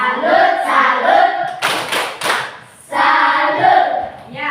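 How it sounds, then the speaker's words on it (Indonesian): A class in an Indonesian classroom claps a rhythmic salute together: a short burst of several sharp, loud group claps set between stretches of a voice talking. "Tepuk salut untuk kelompok 4."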